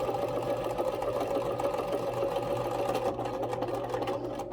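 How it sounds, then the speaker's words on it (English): A sewing machine stitches thick, fluffy fraying fabric for a pet Christmas stocking, giving a steady close motor whir with a strained, unusual tone that holds at one slow speed throughout, no talking. "Machine is making a funny sound. It doesn't want to go any faster."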